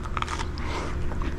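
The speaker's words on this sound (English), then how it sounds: "You can hear the crunch." A crisp, close crunch comes from biting into a crunchy frozen cheese pizza baked in an Ooni Karu 12G wood-fired pizza oven, with several sharp crackly bites over a low background hum.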